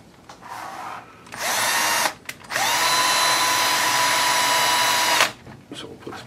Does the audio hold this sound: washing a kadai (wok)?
no